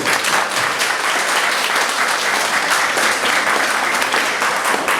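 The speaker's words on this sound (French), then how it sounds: "Oui, sous vos applaudissements." Loud, steady applause from many hands at a civil wedding ceremony, dense and continuous for the whole stretch without any talking over it.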